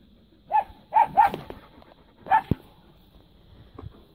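Several short dog barks or yips from dogs and puppies at an animal shelter, four quick calls clustered in the first few seconds, then a quieter stretch with faint background noise.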